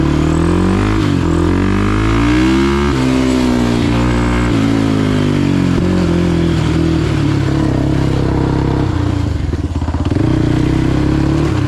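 A Polaris 450 Outlaw ATV engine while riding, loud and close, its pitch rising and falling through revs and gear changes with a steady rattle of the machine, no voices over it.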